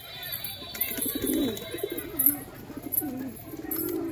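Pigeons, including golden-colored birds in a mixed pigeon collection, coo in low, repeated throaty phrases at close range, with several overlapping calls rising and falling through the short stretch.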